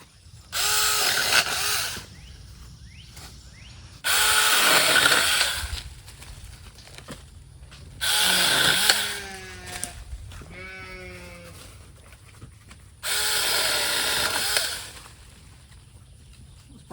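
Alloyman mini chainsaw cutting wood, four separate bursts of buzzing motor whine close by, each lasting a couple of seconds, with quiet gaps between them.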